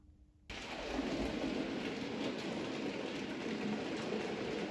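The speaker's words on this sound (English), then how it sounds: "the Bachmann Stanley can pull up to 12 four-wheeled coaches without struggling" A Bachmann Stanley model locomotive with a die-cast chassis hauls four-wheeled coaches around a model railway layout, giving a steady, continuous rolling rumble that starts abruptly and keeps going.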